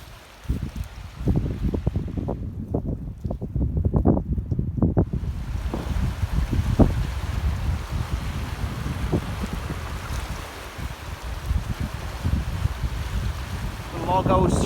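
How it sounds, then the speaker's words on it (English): A high, fast-flowing river rushes in a steady, broadband wash at a winter campsite, with gusts of wind buffeting the microphone and brief murmurs of speech. "the river's quite high"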